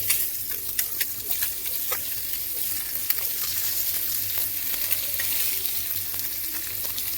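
Boiled eggs fry in chilli masala in a pan over a low flame, giving a soft, continuous sizzle with scattered crackles and pops, with no voices.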